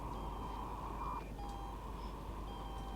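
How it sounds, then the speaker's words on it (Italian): Steady electronic beeping tones inside the horror video game The Suicide of Rachel Foster, a thin repeating pitch held over a constant low hum, faint and alone with no voices. "Questi sono i rumori che sentivamo. Il beep."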